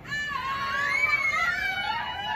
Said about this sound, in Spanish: You guys ready to do the grito from Miguelito?